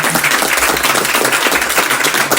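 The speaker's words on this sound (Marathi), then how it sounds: "तर सगळ्यांनी पहिले स्वतःसाठी टाळ्या वाजवून घ्या." Audience at a shayri poetry mahfil clapping for themselves, a dense, steady wash of many hands applauding throughout, loud and close with no voices.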